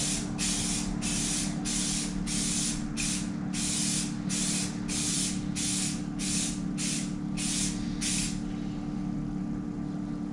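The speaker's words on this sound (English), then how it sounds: "and then spray evenly." An aerosol can sprays in about a dozen short, evenly spaced hissing bursts, close up, then stops, leaving a low steady hum; spraying onto a car engine.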